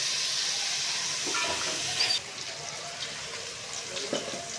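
Frozen peas are washed under running water, giving a steady, close rush of flowing water with faint splashes and rattles throughout.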